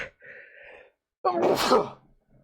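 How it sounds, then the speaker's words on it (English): A single loud, sharp human sneeze bursts out on its own after a short gasping intake of breath, close to the listener, followed by brief quiet. "I really should edit out the sneeze"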